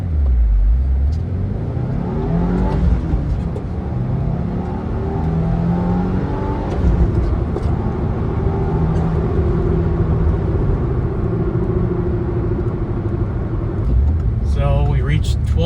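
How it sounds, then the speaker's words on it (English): A stock 2022 VB-generation Subaru WRX launching from standstill to 60 mph, its turbocharged engine droning loud and steady from inside the cabin, pitch climbing and dropping through gear changes, with a brief high whine near the end. "I'm going to give you a 0 to 60 in a stock 2022 VB generation WRX."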